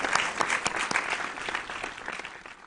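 Applause from a school quiz audience, a moderate crowd clapping with distinct individual claps standing out in an uneven rhythm that slowly tapers.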